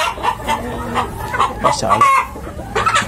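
Free-range backyard hens cluck in a run of short, broken calls, with a rooster crowing faintly among them, while a person talks nearby.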